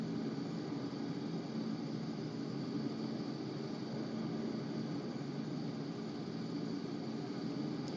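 A helicopter near an Omaha landing area drones overhead as a steady, even rumble with a broad wash of rotor and engine noise, holding constant the whole time with no voices.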